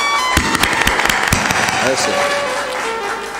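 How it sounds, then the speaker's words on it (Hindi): An audience claps at a spiritual discourse, a burst of sharp, fairly loud claps over about a second and a half, with a voice speaking in the clip. "तालियां भी जोर से बजाया करो"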